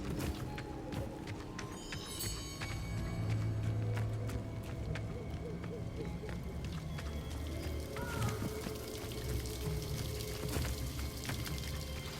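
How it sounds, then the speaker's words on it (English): A waterfall in Hogwarts Legacy gives off a steady rushing pour of water that continues throughout, mixed with tonal game music and scattered effects. "The waterfall."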